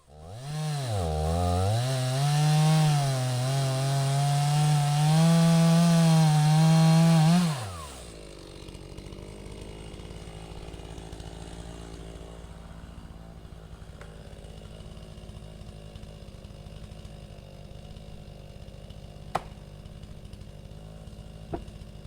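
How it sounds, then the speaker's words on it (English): A chainsaw crosscuts a 162-year-old Douglas fir, a loud, steady high-revving roar with wavering pitch for about seven seconds, then cutting off to a low idle rumble with faint clicks for the rest. "It's pretty impressive to see how far this saw can spit those wood shavings, especially off of the front of the tip of the saw."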